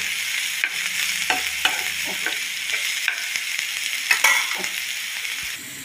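A spiced vegetable filling for sunflower paratha roasts in a pan, a loud continuous sizzle broken by irregular scrapes and taps of a spatula stirring the mixture, heard close up with no speech.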